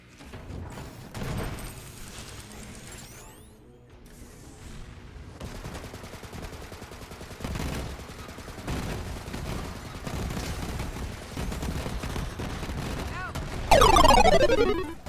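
Gunfire from the Execute weapon and Minesweeper grenade blasts in a Borderlands 3 fight: rapid volleys of close shots and bursts across the whole stretch, ending in a loud flurry of pops, with a voice talking over it.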